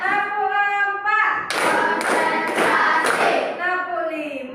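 Classroom hand clapping in a teacher-led clapping game, with bursts of claps at a steady rhythm between children's chanted counting voices, close and loud.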